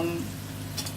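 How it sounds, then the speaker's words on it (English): Food frying in a pan with a steady close sizzle and crackle, with faint background sounds. "we're going to let this fry for maybe about 5 minutes."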